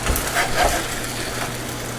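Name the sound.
cheesesteak meat sizzling as it cooks on the griddle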